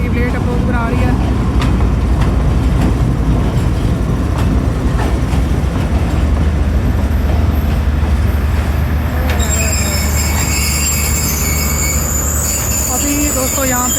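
A passenger train pulls into Lahore Junction railway station about an hour and a half late, hauled by a locomotive; loud rumbling wheels give way to sharp, sustained high wheel squeals as it slows, heard up close.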